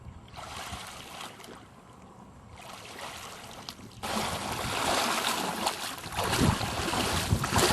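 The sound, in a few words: water filling chest waders while swimming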